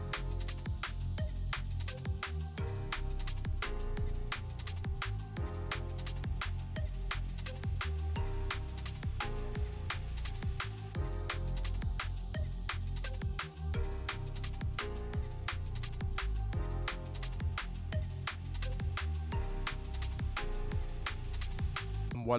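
A liquid drum and bass track plays continuously, with lush chords over fast, punchy breakbeat drums and a pumping sidechain swell, steady and full throughout.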